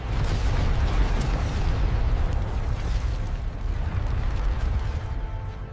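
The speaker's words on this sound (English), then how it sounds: "Jax unleashed a volley of proton torpedoes, guiding them precisely towards the Star Destroyer's port shield generator." Proton torpedoes slam into an Imperial Star Destroyer's port shield generator in a space battle, a continuous loud rumbling roar of explosions with deep booming low end that swells and slowly fades over several seconds.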